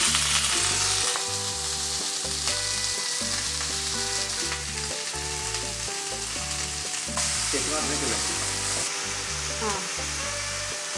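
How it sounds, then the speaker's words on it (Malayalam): Mustard seeds and curry leaves fry in hot coconut oil in a home kitchen, a loud, continuous close-up sizzle with crackling pops running throughout, with a faint tonal hum beneath. "വെളിച്ചെണ്ണ കഴിക്കുന്നു, കടുക് പൊട്ടിക്കുന്നു"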